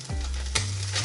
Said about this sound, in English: I'm going to flip these wings over